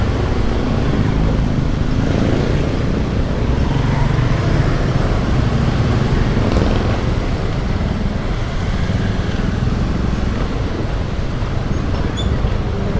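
Steady, loud road traffic rumbles on a congested street, a dense continuous wash of engines and tire noise with a few faint high squeaks, and no one speaking.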